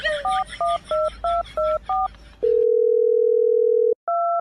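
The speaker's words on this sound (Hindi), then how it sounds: "अभी कॉल करता हूँ मैं।" Telephone keypad tones: six quick, evenly spaced dialing beeps, then one long steady tone and a final short beep, loud, close and alone with no talking.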